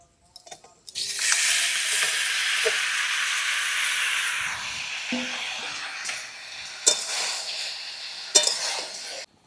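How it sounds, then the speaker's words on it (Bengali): Loud sizzling burst as washed jujubes hit hot mustard oil with five-spice and dried chillies, settling into a steady fry, with a few clanks of a utensil stirring near the end. "কড়াইতে দিলাম অল্প পরিমাণ সর্ষের তেল ফোড়নে দেবো পাঁচ ফোড়ন শুকনো লঙ্কা এবার ধুয়ে রাখা কুলটা দিয়ে দেবো"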